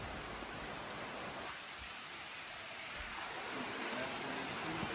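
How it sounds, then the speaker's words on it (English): Rain falls as a steady, soft broadband hiss that dips briefly and then swells back, faint and even throughout, with no clear voices. "Here comes the rain."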